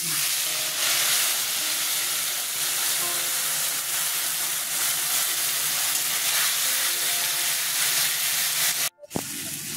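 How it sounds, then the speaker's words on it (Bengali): A paste of ginger, green chilli, mustard and turmeric sizzles loudly and steadily in hot oil, a dense close hiss that briefly cuts out near the end before resuming. "আদা, লঙ্কা, সর্ষে, হলুদ পেস্ট করেছিলাম, সেটা ছেড়ে দিচ্ছি"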